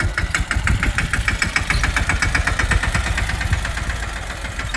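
A tractor engine chugs at idle in a farm field, its rapid diesel knock pulsing evenly and fairly close for several seconds, with no talking.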